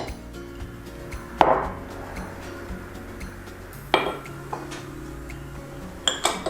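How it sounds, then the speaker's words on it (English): Dry ingredients and spices such as nutmeg and salt are combined in a bowl, giving quiet clinks and a few sharper knocks of utensil against the bowl over a low background, no talking. "So I'm just gonna start by combining these dry ingredients here."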